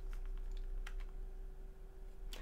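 Keys tapped on a computer keyboard to enter an MS-DOS command, a few quick, soft, close clicks over a faint electrical hum.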